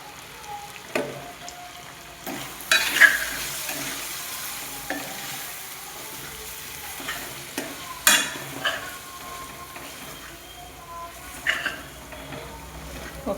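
Gongura chicken masala with chili powder sizzles in a pan as a spoon stirs it in scraping strokes every few seconds. The frying hiss runs steadily underneath, with some faint talk.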